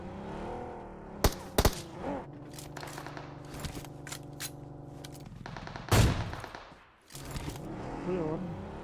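Sniper and rifle shots ring out in BGMI gameplay, several sharp gunfire bursts spaced irregularly, including an AWM shot, with a loud crack near the middle and some scraping movement between.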